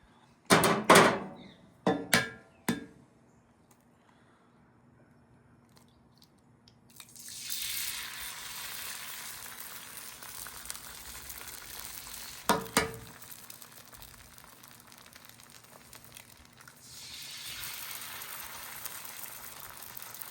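Bacon fat hits a hot frying pan and bursts into a loud sizzle that fades to a steady, moderate crackle, and a second strong surge comes near the end, with a few clunks and taps of cookware early on.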